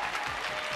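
Applause and ovation from the crowd in a bullring arena, a dense steady wash of clapping throughout the short moment.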